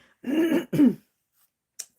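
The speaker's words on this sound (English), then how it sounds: "I've been having a coughing fit too." Two harsh, throaty coughing bursts in quick succession, close and loud, followed by silence and a faint click.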